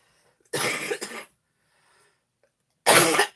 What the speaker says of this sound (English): I'm going to cough, sorry.